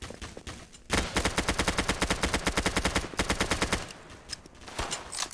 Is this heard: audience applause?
no